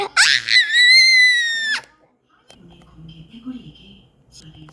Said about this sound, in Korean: 그래서 왜 소리 지르지?